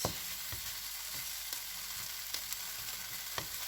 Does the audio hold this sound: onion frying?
yes